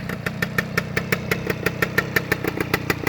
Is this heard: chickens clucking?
no